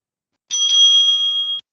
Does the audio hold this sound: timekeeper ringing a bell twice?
yes